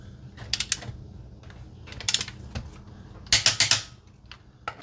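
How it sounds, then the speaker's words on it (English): A torque wrench set to 130 foot-pounds tightens car wheel nuts, producing short clusters of sharp ratcheting clicks close by, separated by brief pauses. "We're gonna torque the wheels. This is at 130 foot-pounds."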